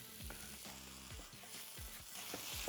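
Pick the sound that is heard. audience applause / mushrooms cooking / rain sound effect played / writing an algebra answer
mushrooms cooking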